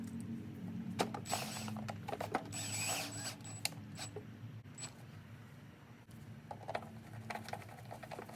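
A 13 millimeter screw being tightened on a Razor E100 scooter during a brushless hub motor conversion, with quiet ratcheting clicks and small metallic mechanism sounds, close and faint, without speech.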